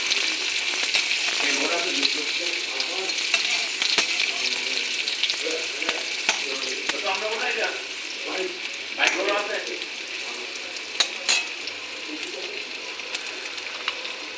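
Steady oily sizzling of onions frying in a wok, with soft stirring scrapes and a quiet voice talking over it.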